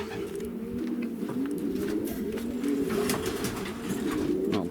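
Soft, low cooing from a female pigeon repeats in rolling phrases, with faint outdoor background noise.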